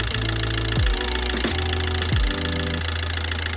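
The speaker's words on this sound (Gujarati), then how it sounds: "ગાડી અત્યારે ચાલુ છે," A diesel Maruti Swift Dzire, a second-hand car, idles with a steady low engine drone and faint rattle, with a few brief dips in pitch and no voices.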